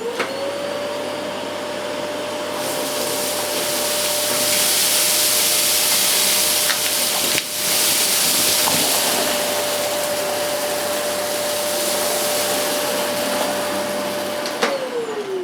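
A Vax Air Silence Powerhead cylinder vacuum cleaner runs continuously up close, a steady loud whooshing roar with a constant whine and swelling suction as it is pushed across the floor, with no talking.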